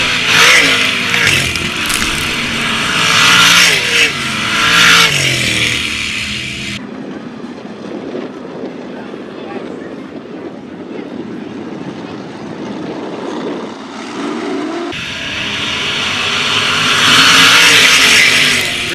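305 sprint cars in a heat race on a dirt oval at Attica Raceway Park roar loudly past, fade to a distant drone in the middle, then howl close again near the end.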